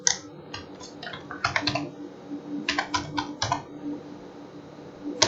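Code being typed on a computer keyboard, a run of brisk key clicks in bursts with short pauses, close and clear with no talking.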